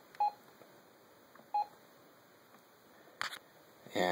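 A Brother MFC-J825DW fax machine dials a number, sounding short, separate keypad tones at uneven intervals against a quiet room, then a brief burst of higher noise at the end.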